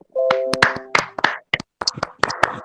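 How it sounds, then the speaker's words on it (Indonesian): A small classroom group claps briefly and unevenly, with scattered sharp hand claps close by rather than a full round of applause. "beri aplaus untuk kelompok 2"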